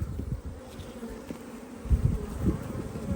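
Steady low hum of many honeybees buzzing close by over an open hive's brood frames, a dense droning swarm that swells slightly toward the end.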